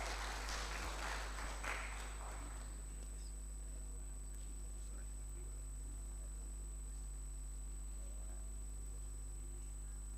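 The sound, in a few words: audience applause at closing ceremony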